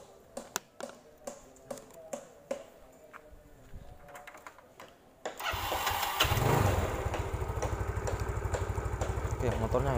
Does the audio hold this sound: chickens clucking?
no